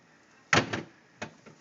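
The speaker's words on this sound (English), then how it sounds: "Make sure the drawer is closed." A refrigerator drawer shuts with a firm thud followed by a second softer knock, close by in a quiet kitchen.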